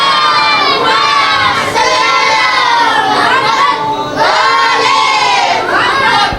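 A large crowd of children at a Shia Quran school loudly chants salawat in unison, several swelling shouted phrases in a row, near and filling the space.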